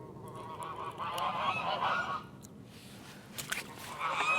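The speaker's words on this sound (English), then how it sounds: "I think you can hear the geese." Geese honk repeatedly beside the old River Nene at March, near Wigston Bridge, the calls loud and fairly close in irregular bursts over quiet outdoor background.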